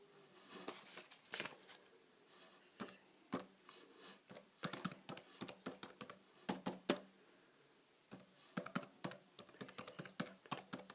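Typing patient details from medical cards into a computer at a doctor's reception desk, close crisp key clicks in irregular bursts with short pauses, no talking.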